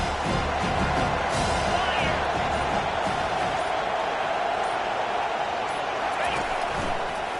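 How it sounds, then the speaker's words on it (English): Stadium crowd cheering in a college football video game, a steady dense roar sustained throughout with commentary voices talking over it. "This crowd knows when to bring it."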